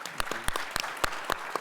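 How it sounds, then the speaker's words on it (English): Scattered applause from a community meeting audience, a handful of distinct sharp claps spread unevenly rather than a full ovation. "A round of applause for Warren."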